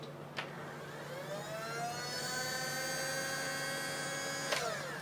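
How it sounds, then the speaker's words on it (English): A Nerf Hyperfire Elite blaster's motor spins up with a click, rising into a steady whirring whine held for several seconds, then cuts off with another click, fairly faint and close. "that is the sound you hear when you start this puppy up"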